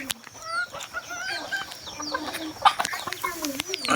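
Hill jungle fowl hens and roosters cluck and call at a busy rural market, close by and overlapping, with a short crow among them and people talking in the background.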